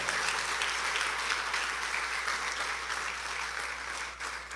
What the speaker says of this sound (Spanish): dele un aplauso a Cristo Jesús y cierre sus ojos